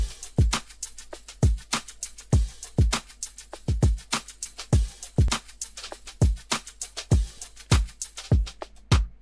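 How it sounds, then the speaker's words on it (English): Full layered drum loop with kick, stacked snares, hi-hat and shaker playing together: steady driving groove of deep thumps and crisp bright ticks, close and dry with no melody or voices. "And all the drums together sound a bit like this."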